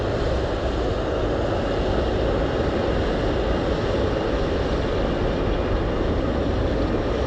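A heavy cargo aircraft landing at Anchorage airport in gusty wind fills the clip with a steady, loud, broadband jet roar that holds unbroken from start to finish, with no voices.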